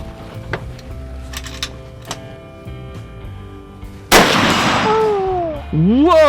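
One sharp, loud gunshot from a 6.5 rifle fired at a wild boar outdoors rings out with a decaying tail, after quieter handling clicks, followed by excited voices.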